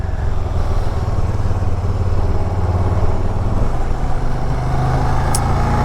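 Can-Am Spyder three-wheeled motorcycles roll past with a steady, loud engine drone and road rumble that holds throughout, without any talk over it.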